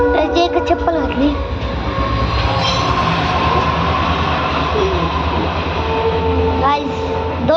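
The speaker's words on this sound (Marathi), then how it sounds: "रेल्वेला आलेले आहे." A train rolls past close by, its railway wagons rumbling loudly and steadily with rhythmic clickety-clack and sharp squeals of wheels on the rails throughout.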